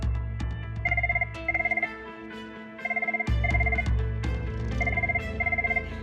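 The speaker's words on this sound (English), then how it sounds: "The phone rings, people lean back in their chairs." An office telephone rings in repeated double bursts, clear and fairly close, over a steady background of music and room noise.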